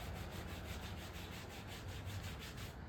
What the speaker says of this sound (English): And you literally just scrub. That's all it is scrubbing.